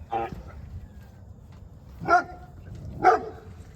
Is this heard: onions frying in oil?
no